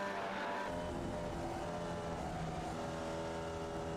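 Onboard a Formula Vee race car on track, the engine drones steadily and close as it revs and shifts, with faint tire noise and no talking.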